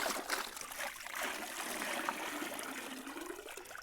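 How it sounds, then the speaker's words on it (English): Fresh-harvested garden produce is thrashed back and forth in a trug full of water, giving steady close sloshing and splashing with no pauses, heard alone. "You can then thrash the produce back and forth in the water"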